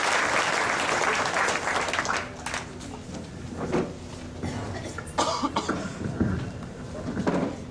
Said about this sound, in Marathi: त्यामुळे तुम्हा सर्वांसाठी एकदा जोरदार टाळ्या.